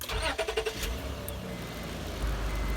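Honda Pilot HVAC blower motor fan switched on after cleaning out debris, a steady low whooshing hum under a few brief clicks at the start, moderately loud and continuous with no talk.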